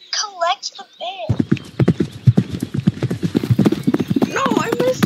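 Rapid clip-clop of horse hooves, steady and fairly loud, with a horse whinnying and people talking over it.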